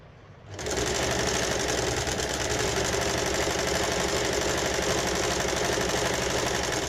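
A sewing machine starts up and runs continuously at high speed, stitching the panels of a casual shirt together, with a steady close, loud mechanical whir and no talk.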